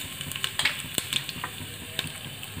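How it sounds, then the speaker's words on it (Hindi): Cumin seeds and asafoetida sizzling in hot oil in a frying pan, a continuous close hiss broken by scattered sharp pops and crackles, with no talking. "तेल गरम हो गया है, अब मैं इसमें जीरा डाल दूँगी"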